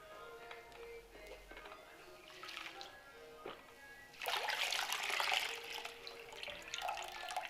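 Rinse water dumped out of a container after a Mopar cold air intake filter is swished clean: faint trickling and dripping that gives way to a louder splashing pour partway through, close by.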